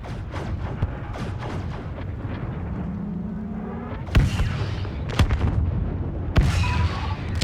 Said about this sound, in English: you can see the AT-M6 use their big cannons